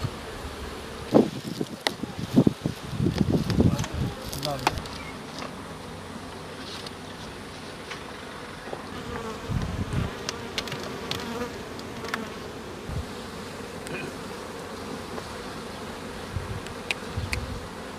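Honey bees swarming around hives in a chestnut honey apiary, a dense steady buzz filling the air with occasional louder passes near the microphone and faint rustling, no talk.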